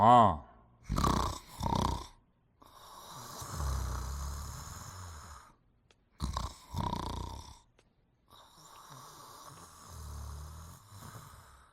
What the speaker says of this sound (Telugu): దున్న పొద్దులాగా తిని ఎట్లా గురకబెట్టి పడినావు చూడు